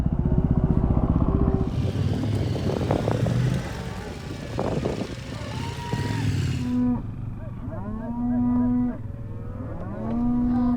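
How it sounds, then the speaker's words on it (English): Cattle in the Australian outback being mustered by riders on dirt bikes: several loud, drawn-out moos overlap one another close by, while a motorcycle engine drones steadily underneath. "Mustering cattle on dirt bikes."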